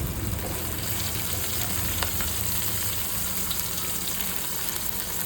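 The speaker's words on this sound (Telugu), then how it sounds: "మంచిగా నూనెలో వేగిన తర్వాత మనమైతే టమాటాలను వేసుకోవాలి" Tomatoes frying in oil with ginger-garlic paste for paneer bhurji, an even, continuous sizzle with a few faint ticks and pops, steady and close throughout.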